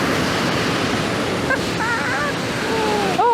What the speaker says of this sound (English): I'm hoping you can hear me over the rush of the water.